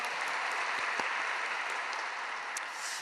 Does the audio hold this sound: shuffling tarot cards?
no